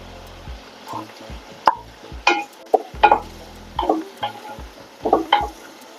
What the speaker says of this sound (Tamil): ஒரு அஞ்சு நிமிஷம் தக்காளி வதங்கட்டும்